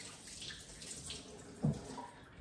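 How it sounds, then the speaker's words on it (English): Running water rinses skincare scrub off a hand, a soft, steady close splashing with one small louder splash partway through, and no talk. "Let's just rinse it off the hand."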